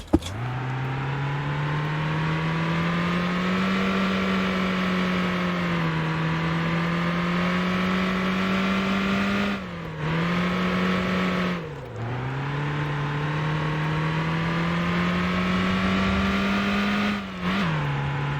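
A car in the Motor Town video game drives and drifts with a steady droning engine note that holds level, dips briefly at a few gear changes or slides, then climbs again, loud and continuous with no voices.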